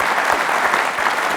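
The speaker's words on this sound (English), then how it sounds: "Give yourselves a clap." A crowd of about 350 people applauds in a dense, steady wash of clapping that stays loud and even for the whole stretch at a season-finale audience event.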